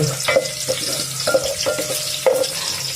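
Ingredients for Maggi noodles fry in a pan while a spatula stirs them, giving a run of close, rhythmic scrapes and taps over a constant sizzle, with no voices.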